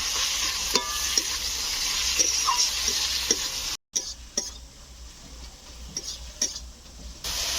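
Tomato, ginger paste, Kashmiri chili powder, salt and turmeric are stirred into fried onion and garlic in a pan for a country chicken and potato curry: a soft, continuous sizzle with scattered scraping clicks of the spatula, broken by a brief silent gap midway.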